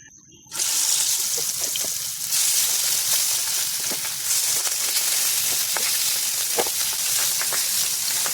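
Coral fish hits hot oil in a wok with a sudden loud sizzle, which then keeps up as a dense, continuous hiss and crackle with scattered sharper pops.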